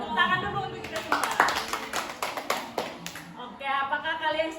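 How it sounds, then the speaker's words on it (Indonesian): A group of people in a classroom clap their hands together in a short burst of sharp claps, with children's voices and chatter before and after. "Terus tepuk tangan dulu untuk kita semua."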